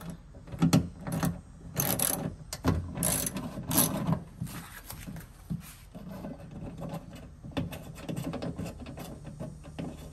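A ratchet tool works a bolt loose on a Toyota 4Runner door during a lock actuator replacement: bursts of quick clicking with short pauses between them, close and fairly quiet, with no talking.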